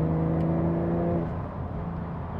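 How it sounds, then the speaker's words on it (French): Porsche 911 Carrera Cabriolet 992.2 flat-six engine heard from inside the open-top car as it downshifts, a steady harmonic drone for about a second before the tone breaks and drops into rougher, lower engine noise. "Quand je rétrograde, la boîte est très réactive."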